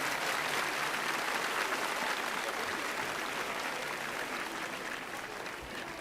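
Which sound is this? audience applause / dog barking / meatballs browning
audience applause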